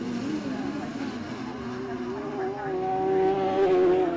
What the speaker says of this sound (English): So the cars accelerate over the timing line